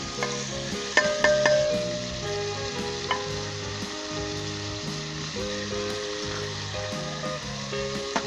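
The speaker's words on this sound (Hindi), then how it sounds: "तो अब हम इसके अंदर सारे स्पाइस डाल देंगे।" Chicken browning in a pan with ginger, garlic and onion for a Pakistani desi chicken gravy, a steady close sizzle and frying hiss with occasional stirring scrapes and clinks, no voices.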